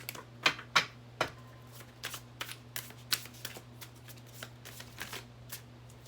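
Tarot cards being shuffled back into the deck by hand, a series of quiet, crisp riffles and taps close by, irregular in rhythm with a few sharper slaps near the start.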